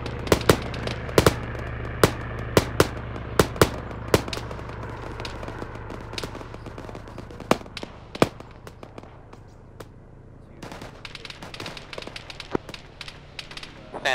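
Scattered rifle shots crack at varying distances during an Arma 3 infantry firefight, sharp irregular reports over steady background rumble, with radio-style voices talking throughout.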